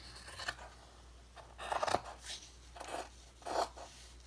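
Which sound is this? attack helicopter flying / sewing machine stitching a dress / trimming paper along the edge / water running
trimming paper along the edge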